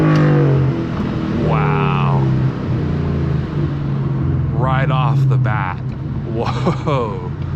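Car on an E85 tune from Lund pulling hard at about 60% part throttle, a steady low engine drone rising in pitch, with a person exclaiming over the engine noise.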